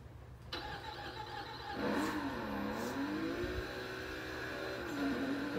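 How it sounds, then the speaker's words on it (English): A rally car's engine revs in Burnout Paradise, a steady loud mid-pitched drone that rises and swells, with pitch sweeps as the throttle changes, close and continuous with no talking. "This car sounds amazing."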